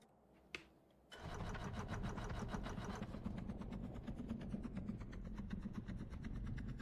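A vehicle engine in a vehicle-building video game runs steadily and loudly after a short click, a buzzing, rattling drone with dense rapid pulses that holds an even level throughout.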